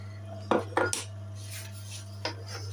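Scraping inside a bread-dough kneading tub to free stuck flour, a few short scraping strokes in quick succession then one more after a pause, close by over a steady low hum.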